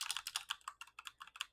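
Rapid, uneven clicks of fingers typing on a computer keyboard, quiet and close, with a dozen or so crisp keystrokes in quick succession and no voices.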